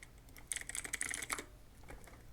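Fingers type in a quick burst of keystrokes on a computer keyboard, a dense cluster of close clicks followed by a couple of scattered taps in a quiet room.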